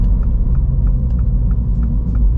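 A 2023 Mini Cooper S in sport mode accelerating at full throttle, with a loud, steady, low engine rumble and boost building continuously throughout.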